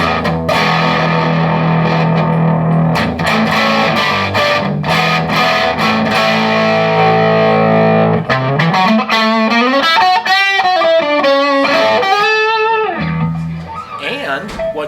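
An electric guitar plays through a point-to-point wired Matchless Chieftain EL34 amplifier with reverb, first as sustained distorted chords, then as bending single-note lines, loud and up front with no speech.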